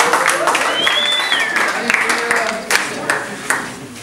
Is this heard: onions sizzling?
no